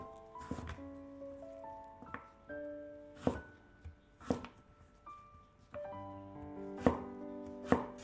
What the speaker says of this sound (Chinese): 准备一些洗干净的胡萝卜，给它切成条